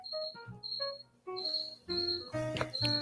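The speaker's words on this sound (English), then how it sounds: "Fucking cricket." Cricket chirping in repeated bursts near a whiskey tasting, a high steady trill pulsing on and off across the clip, fairly close and alone without talk.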